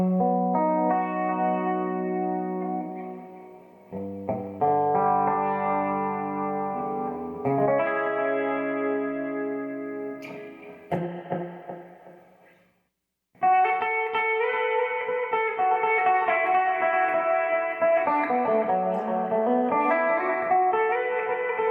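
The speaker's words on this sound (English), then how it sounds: "I just leave it on the tape delay setting." An electric guitar runs through an effects pedal set to tape delay, playing sustained chords and notes with echoing repeats and a washy, wobbling tail. It is loud and continuous apart from a short silent gap near the middle.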